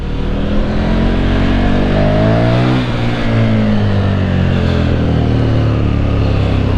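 A KTM 1290 Super Duke R motorcycle engine revs hard and steadily, rising in pitch then settling into a loud, throaty drone, very close.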